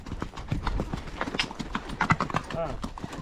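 Horse hooves clip-clopping steadily and fairly close, with people talking over the rhythmic footfalls.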